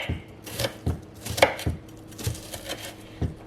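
Zucchini being chopped into small pieces on a cutting board, a near series of crisp knife strikes at an uneven steady rhythm, with no voices.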